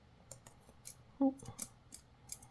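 A small craft knife trims paper while a reading journal is set up. The scene is quiet, with a few soft clicks and scrapes and one brief, sharper snip-like cut near the middle.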